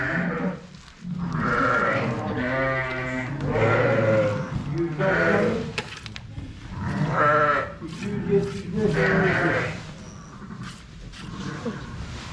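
Sheep bleat repeatedly at close range while newborn lambs nurse on a farm, with several long, wavering calls in a row as people talk nearby.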